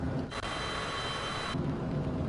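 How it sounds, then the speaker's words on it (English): Heavy pouring rain in Microsoft Flight Simulator 2024 on an approach into Burbank, a dense continuous roar of rainfall with a brighter hissing wash that swells in the middle and then eases back. "Look at this pouring rain."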